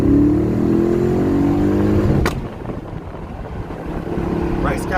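A Nissan Navara D40 fitted with a V8 engine revs up with a rising drone while accelerating in second gear, then drops off abruptly to a rumbling cruise under wind noise.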